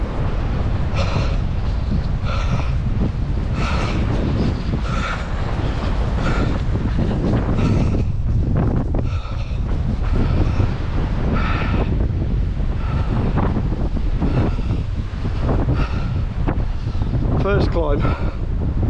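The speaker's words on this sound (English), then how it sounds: "Portreath in the wind." Strong coastal wind at Portreath in Cornwall buffeting the microphone in a steady, loud roar with gusty surges, and a voice talks intermittently beneath it.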